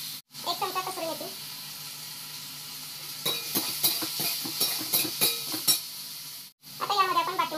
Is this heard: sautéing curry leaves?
yes